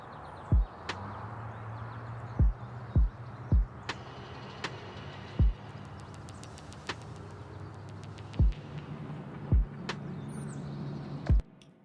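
Lofi track percussion section of sharp, clicky hits like marbles knocking together, scattered irregularly over a soft sustained pad and low hum, about a dozen distinct close knocks.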